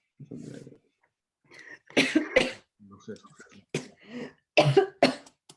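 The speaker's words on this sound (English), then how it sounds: "Not a corona cough." A few sharp coughs and throat-clearing bursts, close by, separated by short pauses, with some speech in between.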